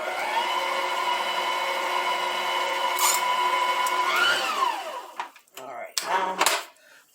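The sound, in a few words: mixer running, mixing ingredients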